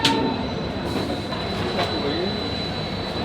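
An Indian overnight train pulls into a platform with a loud metallic wheel squeal and steady rumble of rolling carriages, busy station noise around it.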